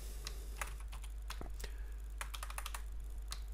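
Quick keypresses on a computer keyboard as a password is typed in, irregular clicks in short bursts, close and fairly soft over a steady low hum, no voices.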